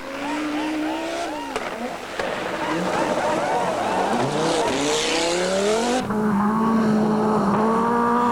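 A 1985 Audi Sport Quattro rally car at speed on a New Zealand rally stage, its engine loud and close, revving up and down through gears with rising and falling whines and bursts of tire squeal.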